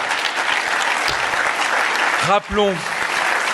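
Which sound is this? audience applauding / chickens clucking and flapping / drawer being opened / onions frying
audience applauding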